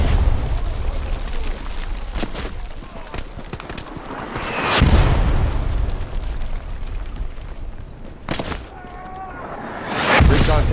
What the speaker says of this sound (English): Defensive bombing run coming in to try and clear them out.